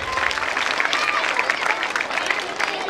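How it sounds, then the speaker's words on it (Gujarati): Applause from a crowd at a Rawal community programme, honouring the organising group from Bhayandar; dense, steady clapping fills the whole stretch at close range without letting up. "હું શ્રી ભાઈન્દરના જે આ કાર્યક્રમ કર્યો છે તે મંડળ માટે જોરદાર તાળીઓ વગાડવાનું કહીશ"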